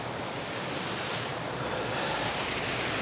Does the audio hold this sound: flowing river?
yes